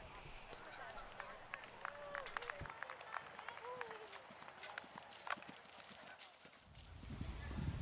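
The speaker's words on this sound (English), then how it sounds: "I had a really fun time riding him on this show jump round." Horse hooves pound during a show jumping round at an eventing horse trial, a quick rhythmic run of fairly faint, distant thuds with other clattery sounds and voices in the background.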